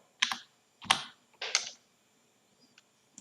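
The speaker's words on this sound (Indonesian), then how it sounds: "Tekan shift di keyboard, tahan, lalu tekan tombol arah panah ke bawah." Three crisp keyboard key presses in an even rhythm, close and clear, with a couple of faint lighter taps after them in a quiet room.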